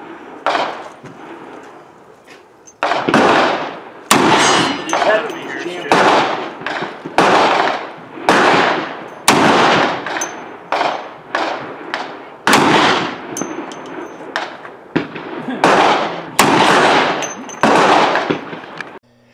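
Auto Mag pistols in .357 to .44 configurations firing at Oak Tree Gun Club, a long series of sharp, loud, echoing shots in irregular bursts with brief gaps between them.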